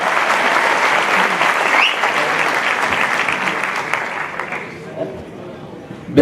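A live audience at a Kirtidan Gadhvi and Mayabhai folk show in Leicester bursts into loud, dense applause. The clapping thins and fades over the last couple of seconds.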